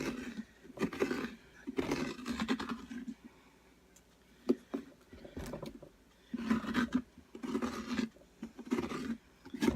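Scraping out the wet, stringy inside of a pumpkin to make a jack-o-lantern gives rough, close scratching strokes in bursts, with quiet gaps between them.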